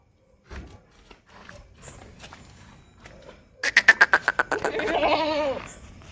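Kathiawadi goats at a live goat sale, starting with a few soft sounds and murmurs, then a loud, close, quavering bleat that pulses rapidly before stretching into a long wavering cry.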